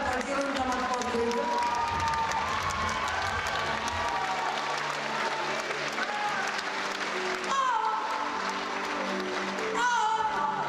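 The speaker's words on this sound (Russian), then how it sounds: "надо аплодировать нам аплодировать" A theatre audience applauds steadily through a comedy routine, with dense clapping and occasional cheers that swell briefly toward the end, close and continuous with no one speaking over it.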